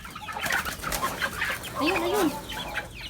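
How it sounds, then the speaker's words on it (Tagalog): Backyard chickens cluck in a busy, overlapping flock while being fed, with near, lively calls and a voice speaking briefly over them. "nagpapakain ng manok si aking labla"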